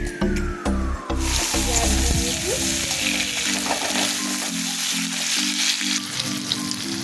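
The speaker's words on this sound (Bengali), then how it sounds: "তেলটা গরম হোক, তারপর তেজপাতা, শুকনো লঙ্কা দিয়ে দেবো।" Bay leaves and dried chillies sizzle in hot oil in a pan, a loud steady crackling fry up close, with background music playing over it.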